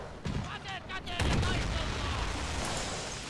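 Tank cannon fire in a Valkyrie mod battle, with two heavy gunshots ringing out at close range over rumbling battle noise, the second blast louder and sustained with a rolling echo.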